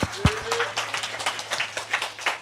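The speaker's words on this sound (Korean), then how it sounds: "하나님께 영광의 박수." A church congregation claps in praise during a sermon, rhythmic fairly faint clapping that repeats at a steady pace, with a brief voice near the start.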